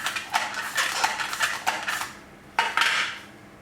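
Thin rounds of courgette sliced on a mandoline for a sole and courgette tartlet, giving a run of quick, crisp scraping swipes in steady rhythm, a brief pause, then a few more close strokes.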